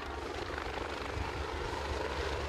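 A big red Westpac rescue helicopter flies overhead during a school visit, giving a steady, fairly faint rotor and engine rumble that holds evenly for the whole stretch.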